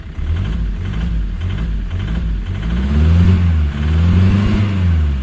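Opel Vectra diesel engine with a worn, tired condition runs loud and close, a rough steady drone that rises briefly in a rev, with no talk.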